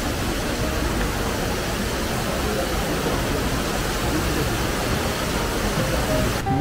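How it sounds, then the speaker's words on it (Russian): A waterfall near Antalya pours with a steady, loud rushing roar of water that stays constant throughout, with no breaks and no clear voices on top. "но водопад красивый"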